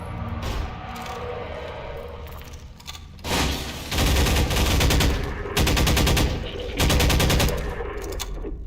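Bursts of AR2 rifle fire in a Half-Life 2 custom horror map, several loud sustained volleys from about three seconds on, with quieter game ambience between them.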